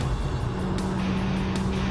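A Volvo S60R with a 2.5-litre turbo engine, about 1,700 kg, drives hard around a race track toward a set of turns. The engine drones steadily at a fairly distant, moderate level, with no voices.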